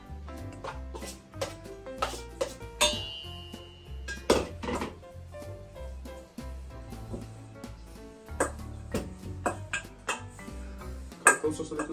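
Grated carrots being stirred into flour for a homemade dog cake, with frequent clinks and scrapes of utensil against a bowl, close and fairly loud, in irregular bursts throughout.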